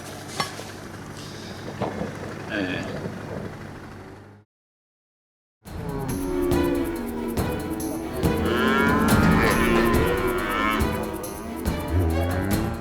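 Australian cattle moo loudly and repeatedly in a rural herd setting, deep drawn-out lowing calls overlapping one another, with a short silent gap early on before several strong moos follow.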